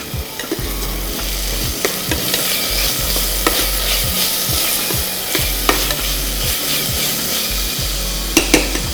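Ginger garlic paste sautés in a pan for Hyderabadi biryani, a steady sizzle with rhythmic scraping strokes of a spoon stirring against the pan, close and alone.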